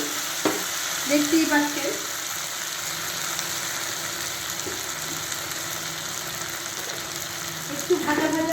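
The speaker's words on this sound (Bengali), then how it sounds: "প্রথমে আলুটাকে ভালো করে টমেটোর সঙ্গে একটু ভাজা ভাজা করে নিচ্ছি" Potatoes fry with tomato in a pan, a steady close sizzle that runs the whole time while a person talks briefly over it.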